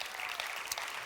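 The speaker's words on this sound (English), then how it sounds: "Let's give them a round of applause." Audience applause at an industry conference on building viral products, a faint, steady patter of clapping from a room of attendees lasting about a second.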